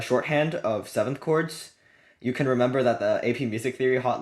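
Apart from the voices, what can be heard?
None of the usual background noises is heard.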